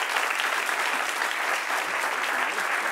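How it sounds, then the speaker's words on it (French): A television studio audience gives steady, dense applause to welcome guests. The clapping stays loud and sustained throughout. "On les applaudit très fort."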